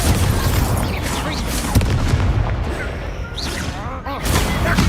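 Confringo blasting spells explode in the Harry Potter game Hogwarts Legacy, loud booming bursts layered within dense, continuous spell-combat noise, with a few brief swooshing effects near the end.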